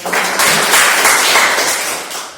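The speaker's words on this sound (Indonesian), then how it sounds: "Tepuk tangan untuk kita semua." A classroom of students applauding together, a steady, dense patter of many hands clapping for a couple of seconds before easing off, with no talk over it.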